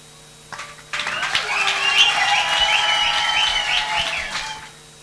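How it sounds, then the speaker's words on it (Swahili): Wedding guests at City Church Buruburu break into applause and cheering, with dense clapping and high whistling, ululating cries that start after a brief pause, hold steady and loud, then fade away. "Makofi zaidi, shangwe jameni."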